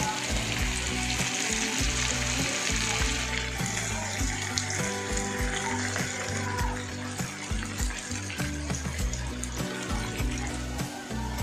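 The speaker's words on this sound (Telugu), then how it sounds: "ఆయిల్ కూడా వేడైపోయింది. ఇంకా ఒకటి తీసుకొని ఆయిల్ వేసుకుందాం ఫ్రెండ్స్" Potato vadas fry in hot oil with a steady, dense sizzle that runs continuously and loud throughout, with a few low clunks and bubbling pops underneath.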